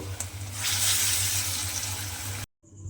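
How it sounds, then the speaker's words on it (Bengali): Split pea (motor dal) fritters frying in hot oil, a steady close crackling sizzle that swells and holds before cutting off abruptly, then briefly resuming, with no voices. "এইভাবেই কিন্তু আমি সমস্ত বড়াগুলো প্রথমে ভেজে নেব"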